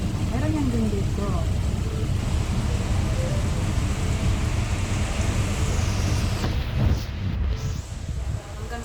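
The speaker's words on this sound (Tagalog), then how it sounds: "Hanggang saan kaya itong ulan?" Heavy rain pours down during a strong storm in Malaysia, a dense, steady roar of broadband noise filling the whole clip, with a voice briefly audible underneath.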